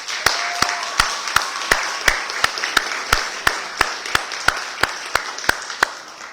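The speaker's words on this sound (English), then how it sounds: "I'd like to first give you guys a round of applause" Audience applause at a culinary job training graduation ceremony for graduating students, a dense wash of clapping with a steady run of sharper, louder claps rising above it, heard alone without talk.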